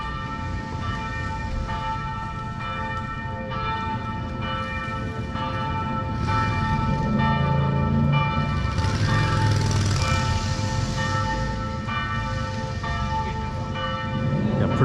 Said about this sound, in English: Got pretty good time there to let you enjoy the bells as it is 6 p.m.